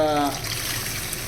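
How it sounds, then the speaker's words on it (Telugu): Tamarind water splashes and runs continuously into a pot of fish curry, close and fairly loud, after a brief voice at the start. "ఆ వాటర్ కూడా చింతపండు వాటర్ అందులో యాడ్ చేయడం జరిగింది"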